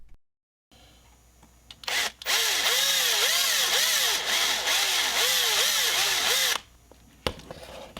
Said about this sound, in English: The glass is also held in place with a post that is mushroomed out, so we need to drill this out.